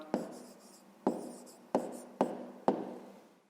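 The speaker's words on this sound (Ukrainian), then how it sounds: "Ну і пишемо так." Pen writing an answer by hand on paper, five short scratchy strokes in an uneven rhythm, close and quiet with nothing else heard.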